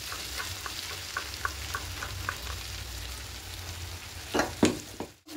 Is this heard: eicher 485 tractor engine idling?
no